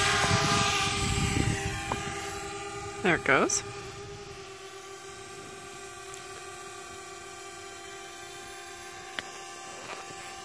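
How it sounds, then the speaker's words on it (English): A small drone buzzes steadily as it flies out over the edge of Table Mountain near Jamestown, California, a faint continuous hum under outdoor ambience, with someone speaking briefly partway through. "flying his drone."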